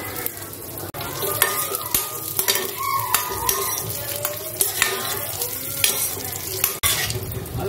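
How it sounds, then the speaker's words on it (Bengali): Egg curry (dimer kosha) sizzling steadily as it fries in a pan, with spoon scrapes and stirring clinks against the metal recurring at close range. "এবারে আমি এটা একটু ফ্রাই করব"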